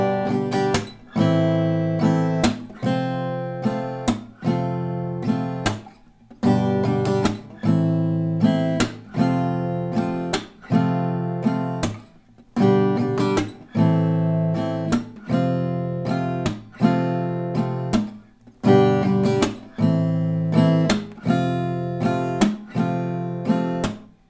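Acoustic guitar strums a chord progression from a song in a steady rhythm, each strummed chord ringing out briefly before the next, loud and close with no voices.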